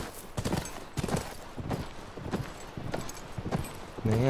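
Horse hooves clip-clop at a steady walking pace in The Last of Us, a run of evenly spaced close thuds with a brief louder rumble at the end.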